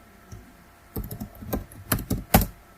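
A computer keyboard being typed on while writing code, a short burst of close, crisp key clicks in quick irregular clusters over a quiet background.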